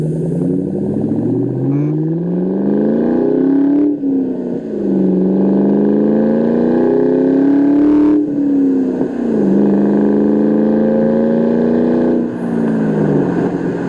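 A 2003 Ford Mustang Mach 1 with a Borla exhaust accelerates hard through several gears, its loud, close engine note rising in pitch, dropping at each shift and climbing again.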